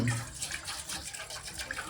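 Running water from a tap splashes and gurgles steadily into a pot being rinsed, close and moderately loud, with no talking.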